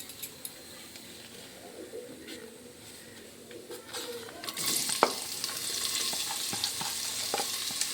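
Bay leaf and panch phoron frying in hot oil while being stirred; a quiet sizzle with light scraping swells into a louder, brighter crackle halfway through, punctuated by occasional spoon taps.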